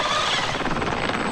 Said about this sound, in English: Oh, we got two helicopters.